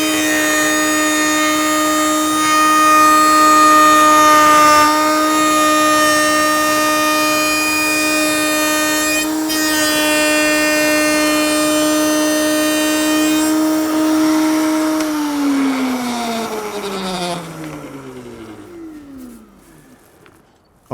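Router cutting a notch in a wooden rafter tail for a Greene & Greene style table, a loud steady high whine that holds for about fifteen seconds, then winds down as the motor spins to a stop.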